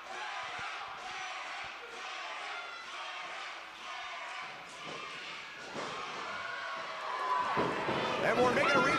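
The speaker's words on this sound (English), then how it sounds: "the crowd's getting behind Eric Moore quite nicely" A wrestling crowd cheers for Eric Moore during a match, a loud, sustained roar of voices with scattered thuds from the ring, and a commentator talks over it.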